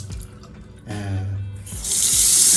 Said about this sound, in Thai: ก๊อกน้ำก๊อกน้ำจะใช้แบบวอลลุ่มนะครับ ด้านนี้คือเป็นน้ำเย็นฮะ